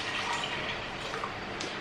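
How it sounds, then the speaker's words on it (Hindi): Water pours into a cooking pot on a home stove, a short, steady gushing splash that holds at an even level for under two seconds, close up and with no one talking. "अब मैं इसमें डाल दूंगी पानी।"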